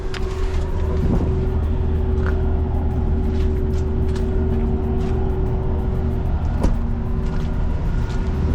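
A flatbed truck driving through a muddy factory yard, a steady loud engine drone with a constant low hum and occasional faint clunks, close and continuous, with no talking.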